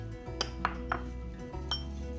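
Spices such as kosher salt, garlic powder, black pepper, smoked paprika, onion powder, oregano and cumin being combined in a bowl, with a few sharp clinks and taps of utensil against dish over a low background hum.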